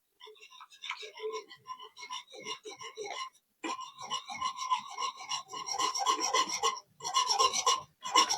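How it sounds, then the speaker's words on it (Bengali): A whisk scrapes and rubs through thick rice paste mixed with powdered milk in a bowl, a close, rapid, rasping series of strokes with short pauses, growing denser toward the end. "প্রথমে একটা হুইস্ক দিয়ে ভালো করে মিশিয়ে নেব।"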